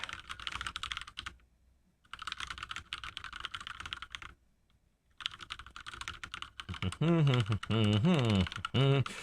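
Typing on a HyperX Alloy mechanical keyboard gives dense, rapid key clatter in bursts separated by brief pauses, with a voice talking over the final stretch.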